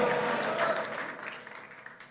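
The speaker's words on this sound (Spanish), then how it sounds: "Dale un fuerte aplauso al Rey" A church congregation applauds in a sustained burst that starts full and gradually thins out, with no one speaking over it.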